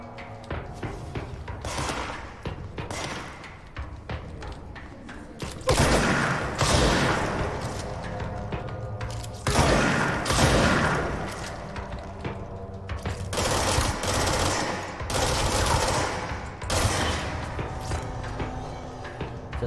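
Gunfire from automatically reloading weapons in the video game Control, heard as loud, dense bursts and booming shots alternating with quieter stretches, with no talking.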